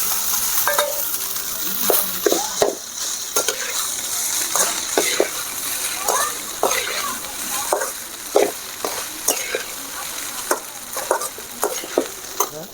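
Cooked rice is stirred into sautéed vegetables in a pan for mixed vegetable rice, a continuous soft sizzle with repeated spoon scrapes and taps against the pan, close and alone with no talk.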